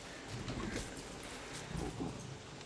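Rain in the video game Don't Starve Shipwrecked, a soft, steady patter with faint low rumbles swelling twice, quiet throughout with no talking.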